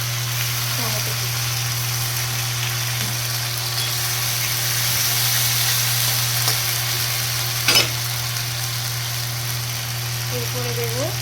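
Ginger paste and chopped tomato frying in a pan, a steady soft sizzle with occasional faint stirring scrapes over a constant low hum, close and fairly even throughout.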